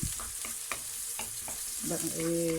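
Onion sizzling gently in oil in a pan for Egyptian-style moussaka, a steady crackling fry with a few light stirring knocks and a brief tonal whine near the end, close and moderately loud.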